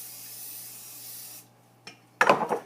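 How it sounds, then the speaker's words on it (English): A steady aerosol hiss of cooking spray coating a cake pan for a chocolate cake runs for over a second, stops, then a couple of short bursts and rubbing sounds follow close by. "take a cake pan, spray it really nice, really good"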